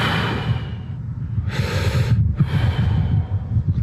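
Slow deep belly breathing, a long inhale and exhale close to the mic, with breathy rushes separated by short pauses and no talk.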